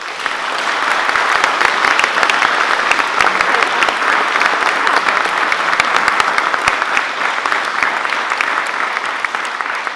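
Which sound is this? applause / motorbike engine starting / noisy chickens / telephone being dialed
applause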